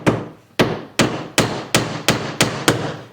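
Pins are hammered into a damaged wooden door liner being repaired with wood glue: eight sharp, loud hammer blows in a steady, even rhythm, each ringing off briefly, with no talking.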